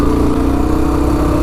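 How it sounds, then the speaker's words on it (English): Engine of a Honda TRX 300ex or 250x ATV running with a loud, steady mid-pitched drone, close and continuous as it falters after the choke pops up. "The choke came up and stalled me out."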